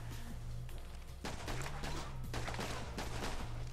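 Enemy gunfire in The Bourne Conspiracy comes as dense, rapid bursts of shots under a steady low game hum, moderately loud with brief pauses between volleys.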